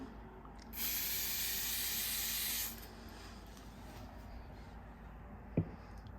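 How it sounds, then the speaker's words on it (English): A steady aerosol fixative spray hisses for about two seconds over a graphite and charcoal drawing, then cuts off, leaving quiet room noise and a single soft knock near the end. "I'm gonna apply the spray over there."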